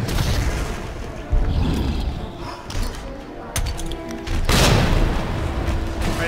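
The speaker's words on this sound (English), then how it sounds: "That grenade didn't seem to do much." A grenade blast in Resident Evil 2 Remake lands as a heavy boom amid continuous game noise, with a second loud rumbling burst later in the stretch and dull thuds between.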